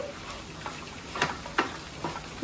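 Chicken fry sizzles steadily in a pan while a utensil stirs it, with a few distinct scraping swishes standing out over the close, constant frying hiss.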